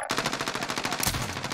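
Rapid automatic gunfire in a first-person shooter game, loud, dense bursts fired continuously with a sharp louder shot near the end, no talking.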